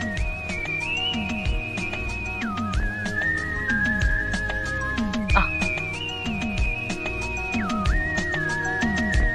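Sustained, wavering human whistling with long held tones that dip and rise, over a busy backdrop of clattering and low rumbling noise.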